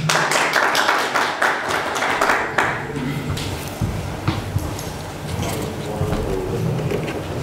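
An audience claps in dense, crackling applause for a few seconds at a Turkish commemoration ceremony, then it thins out into scattered claps and general room murmur.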